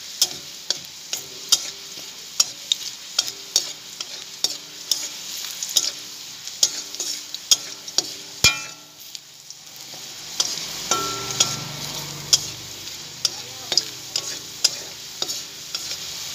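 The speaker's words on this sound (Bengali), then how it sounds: "বেশ রসুন ভেজে লাল হয়ে গিয়েছে" Garlic sizzles steadily in hot oil for a Bengali jute-leaf dish while a spatula scrapes and taps the pan in a regular rhythm, with a brief pause midway before stirring resumes.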